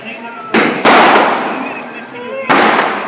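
Red firecrackers bursting during celebrations at a housing society, with three loud sharp broadband blasts, each followed by crackling decay, close by and over background chatter.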